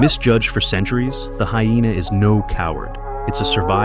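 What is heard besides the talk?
No everyday noises stand out.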